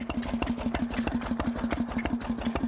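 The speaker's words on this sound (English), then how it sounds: "The machine that the engine is driving at the moment is a small domestic water, it's a small domestic water pump." A steam engine at a rally runs steadily while driving a small domestic water pump, giving a rapid, even mechanical chuff-and-clank rhythm that stays close and fairly loud throughout.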